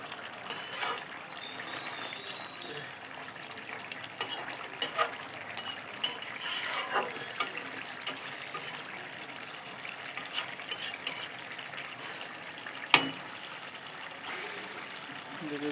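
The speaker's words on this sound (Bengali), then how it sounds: "দেখো তরকারি ফুটছে" A curry of Malabar spinach, potato, pumpkin and prawns simmers with faint bubbling and scattered soft clicks of stirring, while a person talks intermittently.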